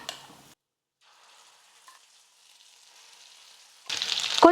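Ground coconut chutney hits hot tempering oil with mustard seeds and curry leaves: faint low frying at first, then a sudden loud, hissing sizzle bursts up at the end.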